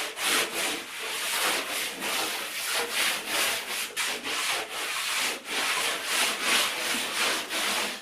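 A cloth is wiped over a freshly sanded interior wall in repeated rhythmic strokes, each a close, dry swishing rub with brief gaps between passes.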